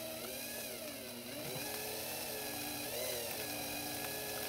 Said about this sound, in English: You're going to drill it in there